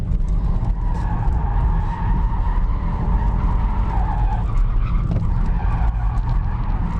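A 1.6 diesel BMW 1 Series drifting, tires skidding and squealing continuously under a loud, steady engine drone for the full stretch, close and with no talking.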